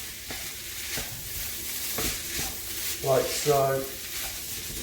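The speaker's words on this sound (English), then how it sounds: "Just going to stir this around, make sure all the rice is well covered" Rice stirred around in a single pot over heat, giving soft scraping strokes over a steady sizzle, with a voice speaking briefly partway through.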